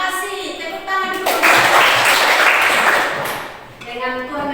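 Audience applause rises for a few seconds after a student finishes writing at a church or school gathering, a broad burst of clapping that swells and fades, with a voice and talk before and after.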